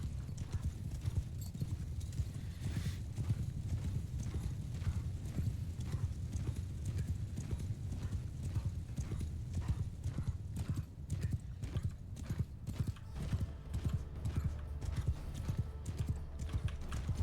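Many hooves pound continuously in a dense, rumbling clatter, a mass of horse archers galloping together in a medieval battle video game, with occasional whinnies mixed in.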